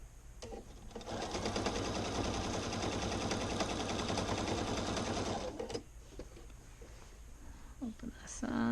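Sewing machine stitching around the seams of Simplicity 2481 pants, a steady loud whirring run of about five seconds that stops abruptly, with quiet handling noises before and after.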